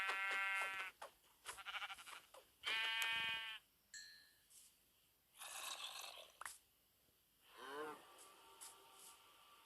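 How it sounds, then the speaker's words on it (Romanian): Sheep in Minecraft give a series of short, wavering bleats spaced across several seconds, up close and clear, with no talking. "mă duc să omor mai bine oaia, că oaia îmi trebuie și pentru pat"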